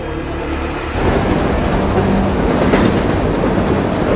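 A train in an X-Men film rumbles loudly and close, with a steady rolling clatter of wheels on rails that swells after the first second.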